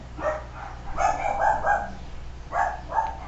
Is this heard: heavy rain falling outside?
no